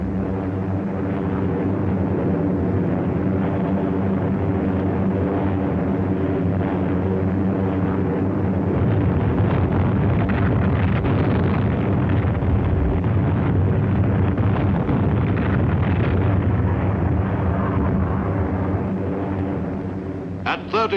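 Heavy, steady drone of B-29 Superfortress bombers over Tokyo during a bombing raid at high altitude, a dense continuous engine roar holding loud for the whole stretch with a rough, wind-like hiss on top.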